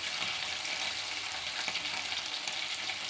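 Chicken pakodi pieces deep-frying in hot oil, a steady, close, dense bubbling sizzle that runs unbroken throughout with no talking.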